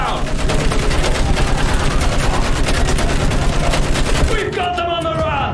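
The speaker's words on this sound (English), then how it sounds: "Use that machine gun!" Battlefield 1 machine gun fire in a World War I trench battle, a loud rapid continuous stream of shots for about four seconds before it stops abruptly, leaving softer battle sounds.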